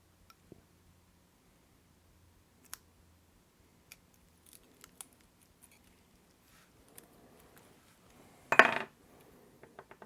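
Backing film peeled off a strip of double-sided tape during a Game Boy Advance SP IPS screen install, a short close rasping burst near the end, after scattered faint ticks and taps from handling small parts.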